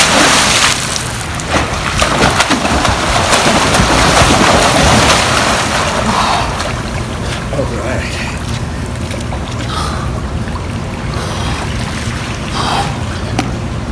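A person drops into a cold plunge, setting off loud sloshing and splashing water that settles into softer trickles and ripples, with a voice speaking over the churn.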